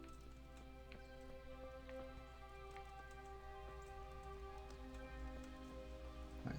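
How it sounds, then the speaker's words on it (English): Steady rain falls in the medieval world of Kingdom Come: Deliverance, a soft even patter with scattered drop ticks and a faint low hum underneath, continuous and alone throughout. "And rain."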